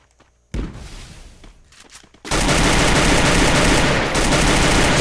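Gunfire in the Free Fire battle royale game, including shots from an AW sniper rifle: a sharp burst followed by a dense, loud, sustained barrage of shots that fills the rest of the clip.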